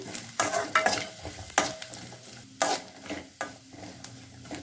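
Grated coconut is dry-roasted in a pan for coconut chutney, with repeated scraping strokes of a spoon against the pan over a light sizzle, close and fairly loud.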